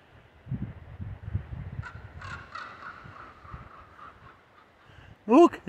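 A crow gives a short burst of loud, harsh caws close by at the very end, after a stretch of low scuffling and rustling outdoors near a rocky cave area.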